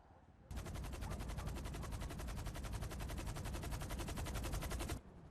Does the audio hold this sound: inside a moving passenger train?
no